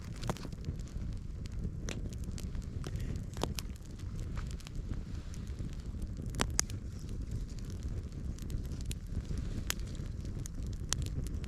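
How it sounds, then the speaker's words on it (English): Campfire burning outdoors on snow, twigs and logs giving off sparse sharp crackles and pops over a low steady rumble of flame and wind, close by with no talking. "Once you hear a crackle, it's a good sign."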